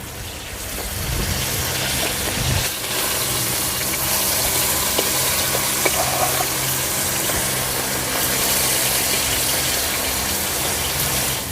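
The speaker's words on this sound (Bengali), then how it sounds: "এবারে মাছগুলো উল্টে দেবো" Flipped red bhola fish pieces sizzling in hot mustard oil in a kadai, a loud, steady rushing hiss like heavy rain that holds for several seconds with small pops, near and with no speech.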